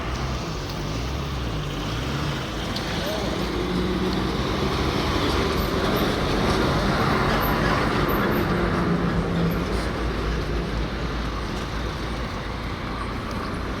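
A steady, loud roar of heavy vehicles on a road as a group of four Highline buses with temporary registration passes, continuous broadband rumble with no talking.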